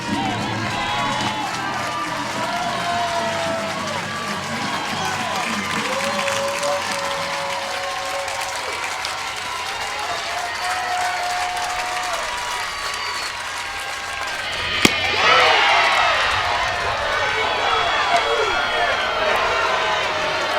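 A softball crowd at the 2019 Women's College World Series, Minnesota against LSU, cheers and claps for a strike. The roar is steady, with a sharp crack and a swell of noise near the end, and commentators talk over it.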